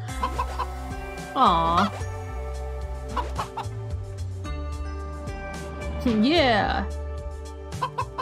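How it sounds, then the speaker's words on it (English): Rooster clucking in the video game A Space for the Unbound, two short bursts of agitated clucks over steady game music, with a brief spoken remark between them. "I brought the rooster in the bag, which is in my pocket."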